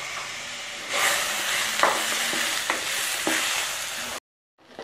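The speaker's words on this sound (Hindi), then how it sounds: "अब हम इसमें टमाटर डालेंगे और टमाटर को भी तेल के साथ अच्छे से सेक लेंगे।" Tomatoes sauté in hot oil in a kadai with browned onions, a bright steady frying hiss with several spoon scrapes and knocks, then cutting off abruptly into silence near the end.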